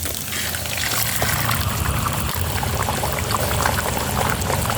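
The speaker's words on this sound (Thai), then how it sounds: "กระเทียมเหลืองได้ที่ก็ใส่ไข่ลงไปครับ" Beaten eggs, two of them, poured into a hot pan over garlic fried golden, a steady near pour and sizzle running the whole time with no talk.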